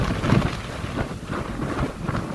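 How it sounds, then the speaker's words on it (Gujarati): Gusty wind in the Gir region of Gujarat roars and thumps against the microphone in uneven bursts, loud and close, with no clear talking. "એ દબાવી નાખી આવે એવો પવન"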